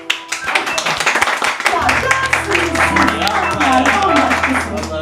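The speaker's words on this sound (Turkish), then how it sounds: "Alkışlayalım" Audience applause at a Turkish live talk show taping in London, dense clapping sustained throughout over a low hum, with voices talking over it.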